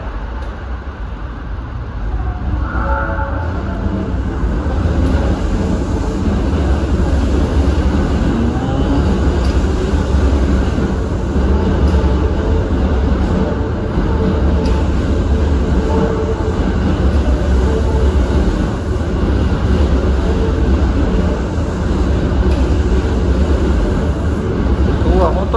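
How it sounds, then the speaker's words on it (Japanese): An Osaka Metro subway train pulls out of Shin-Osaka station bound for Tennoji, with a steady, loud rumble of wheels and motors close by that holds for about twenty-five seconds. "新大阪、大阪メトロ出発です"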